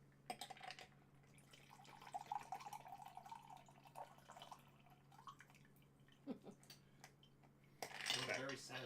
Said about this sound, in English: Very satisfying pour.